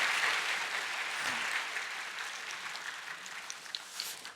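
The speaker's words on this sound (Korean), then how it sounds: "우리 박수로 다시 한번 격려하겠습니다." Church congregation applauding the choir during a Sunday worship service, a broad, even wash of clapping that fades gradually, heard somewhat distant and soft.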